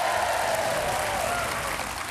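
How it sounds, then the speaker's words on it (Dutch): A game show studio audience applauds and cheers in a steady, dense wash of clapping that holds evenly throughout, with no talk over it. "Iedereen juicht"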